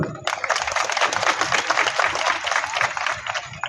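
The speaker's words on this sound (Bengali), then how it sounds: "স্বপনদার জন্য জোরে তালি" A crowd claps loudly at an outdoor political rally for a BJP candidate, dense steady applause that starts abruptly and continues throughout, close and full.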